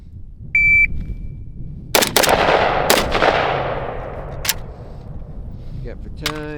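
Two sharp 5.56 AK rifle shots ring out at an outdoor range right after a shot-timer beep, each crack trailing into a long decaying echo, with a faint third report and a voice starting at the end.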